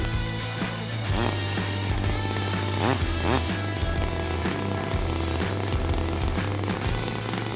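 A Stinger 15cc gasoline model airplane engine runs continuously at a steady, high-revving buzz with strong harmonic drone, close and loud, with brief rev surges around the first and third seconds.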